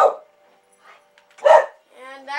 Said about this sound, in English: And that is my dog. He likes to bark.